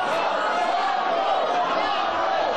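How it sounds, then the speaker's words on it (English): Wrestling crowd at a Crossfire event chanting for Kongo Kong in his bout against Bin Hamin, a dense, steady roar of many voices filling the arena without a break. "the crowd is chanting KONGO"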